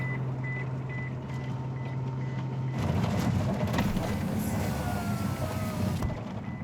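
An Aston Martin DB9 Volante convertible emits a series of evenly spaced electronic warning beeps over an engine drone, then the engine noise swells louder and masks the beeping.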